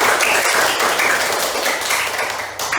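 Classroom applause for a student's correct answer, a steady wash of many hands clapping together throughout, fairly loud and close with no talk over it.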